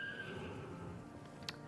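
A horse in a video game gives a single faint whinny that trails off over quiet background ambience.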